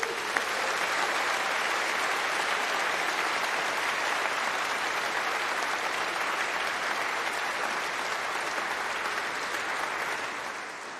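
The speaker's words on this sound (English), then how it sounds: "give a huge cheer and round of applause for everyone here from the university who has supported you in your journey" Loud, sustained cheering and applause from a large graduation audience fills a university hall for the full stretch, dense and steady without a break.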